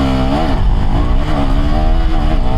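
A KTM Duke 390 motorcycle engine revs hard and loud, pitch climbing and dipping in quick surges as it launches, with no talking.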